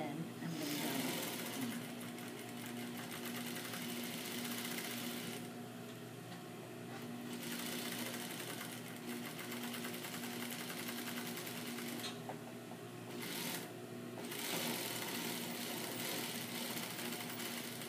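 Sewing machine stitching around the corner of a jacket facing and across the hem, a steady continuous mechanical whir with brief pauses and restarts, close and moderately loud, with a voice talking over it.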